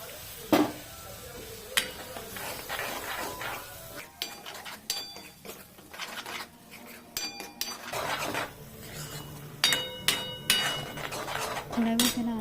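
A spoon stirs ground spice paste around a pan while matki bhaji cooks, giving scattered close metallic scrapes and clinks in uneven bursts over a quiet kitchen background.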